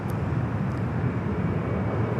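A passenger jet arriving at Los Angeles LAX airport gives a steady, rumbling engine roar that holds at an even level for the whole stretch, with no voices over it.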